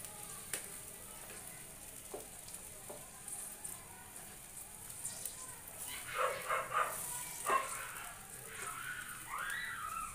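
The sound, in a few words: hot water poured into frying spice paste, sizzling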